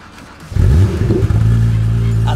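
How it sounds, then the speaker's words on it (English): A Porsche GT3 flat-six engine cranking and starting in freezing cold, a brief starter whir, then a loud, close roar as it catches and revs before settling into a deep, steady idle. "that's the noise of the Porsche flat six roaring into life"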